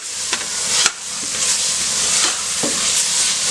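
Chopped mint and coriander fry in a pan for chicken biryani with a continuous bright sizzle, broken by a few sharp clicks of a spoon stirring.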